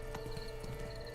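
A horse canters in the video game The Witcher 3, its hooves giving a brief run of rhythmic clip-clops over a steady background hum, fairly quiet.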